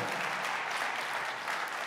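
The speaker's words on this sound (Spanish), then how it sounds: "hay que darle un aplauso a los que están online viendo" Dense, sustained applause from a church congregation during a sermon, a steady wash of many hands clapping close by, filling the whole moment without a break.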